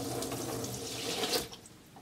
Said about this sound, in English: when you dump over a glass of water,